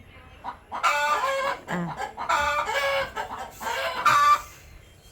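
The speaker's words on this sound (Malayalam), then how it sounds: "കോഴി പോ. എല്ലാവരും കൂടി സൗണ്ട് ഇടാൻ തുടങ്ങിയിട്ടാ" Several chickens clucking close by in loud, choppy bursts separated by brief pauses, with some squawking calls mixed in.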